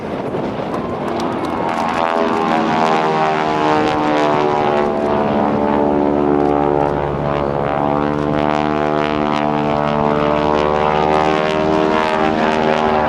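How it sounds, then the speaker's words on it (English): An aerobatic propeller airplane at a naval air station airshow runs up and rolls into its takeoff at show center, the engine drone loud, steady and strongly harmonic, rising in pitch over several seconds with no talk. "Comes by show center and does a roll-on takeoff."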